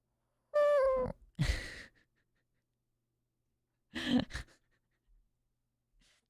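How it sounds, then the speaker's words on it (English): A pet cat snores in two short, breathy, rasping snorts separated by silence, faint and close, with a brief hum-like voice sound at the start. "That's what his snores sound like."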